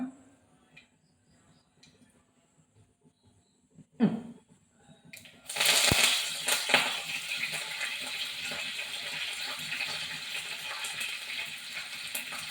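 Mustard seeds go into hot oil for a star gooseberry pickle. After a few quiet, faint knocks, a loud sizzle suddenly bursts in and carries on with scattered crackles and pops.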